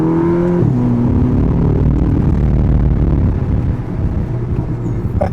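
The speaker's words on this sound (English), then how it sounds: "Okay, we have some sort of a tunnel here, and you know what happens. Manual," Volkswagen Polo GTI with a manual gearbox being downshifted inside a tunnel, its engine note stepping up in a loud rev burst and then a sustained, echoing drone and rumble that carries on without any talk.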